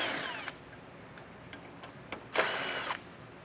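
A power drill fitted with a 7mm socket whirs in two short bursts, one at the start and one near the end, removing fasteners from a vehicle frame during a base plate installation, with faint clicks in between.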